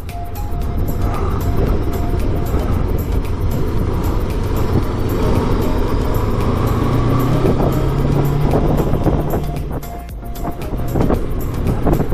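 A Macbor Montana XR5 500 cc twin-cylinder trail motorcycle rides along a bumpy road, its engine a loud steady drone with shifting pitch, heavy wind buffeting the microphone throughout, no talking.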